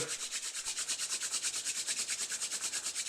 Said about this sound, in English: Raise both hands up, rub them against each other